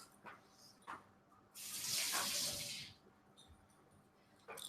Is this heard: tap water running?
yes